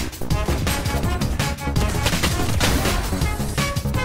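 Gunshots in a shooter video game ring out as a string of sharp reports amid dense, rhythmic game sound and music, steady and fairly loud throughout with no voices.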